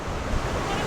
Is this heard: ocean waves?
yes